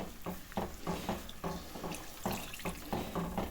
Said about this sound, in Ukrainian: А тепер час додати і рідину.